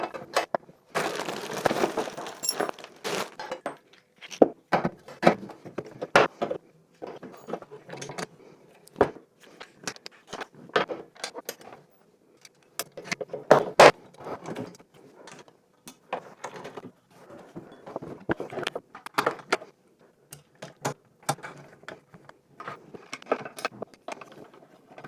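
Parts of a DeWalt DWS774 mitre saw handled during assembly: scattered clicks, clunks and rattles at irregular intervals, fairly close, with short pauses between bursts of handling.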